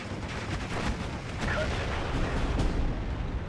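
Gunfire crackles in the wartime strategy game Steel Division as a dense, continuous barrage of shots and blasts. It rumbles loudly with no clear gaps between them.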